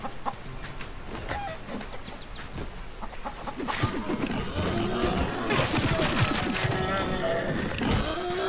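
Chickens cluck and squawk in the survival video game Soulmask, several birds fussing over a busy, noisy in-game background that grows louder and denser partway through.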